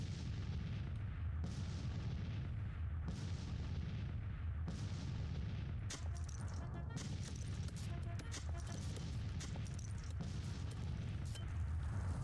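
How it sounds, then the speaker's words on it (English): Civil War artillery batteries of Napoleons and 12-pound howitzers fire in Grand Tactician, a steady rumble of distant cannon booms layered over one another, with frequent sharper reports rising above a continuous battle din. "That is a lot of artillery firing."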